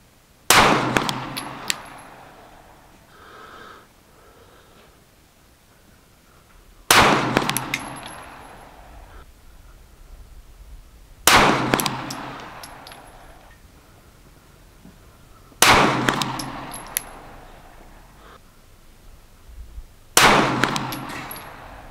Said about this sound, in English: So I'm going to shoot 5 and then see where I am and see if I've got to go change the aim point.